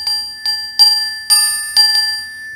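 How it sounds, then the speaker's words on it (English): A Zenergy chime solo, a small bell, is struck with its mallet five times in quick succession, each strike ringing a clear, sustained pure tone that overlaps the next. It is close and fairly loud, with no talking. "It says it's a Zenergy chime solo."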